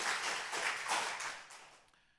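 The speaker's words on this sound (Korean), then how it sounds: "축복하는 마음으로 함께 박수 다시 한번 하겠습니다" A church congregation claps together in steady, dense applause that starts strong and gradually fades over about two seconds.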